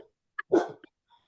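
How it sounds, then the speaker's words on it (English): A few short dog barks, one fuller bark in the middle with brief yips around it, close by in an indoor room. "There go my dogs."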